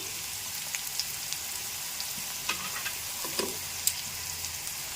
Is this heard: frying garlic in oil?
yes